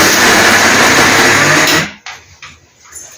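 Mixer grinder blending coconut and green chilli chutney, running loud and close with a steady whirring roar for about two seconds before it switches off, followed by a few faint knocks.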